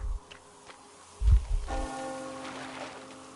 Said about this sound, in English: Hear that bell?